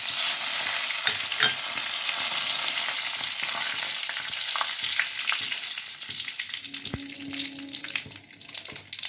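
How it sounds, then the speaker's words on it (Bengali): Bay leaves, whole garam masala and cumin seeds crackle and sizzle in hot oil, a steady close frying hiss with small pops and a spatula tap near the end, no voices. "এবারে দিয়ে দেব সব ফোড়ন তেজপাতা গোটা গরম মশলা গোটা জিরে আমি একসঙ্গে সব দিয়ে দিই"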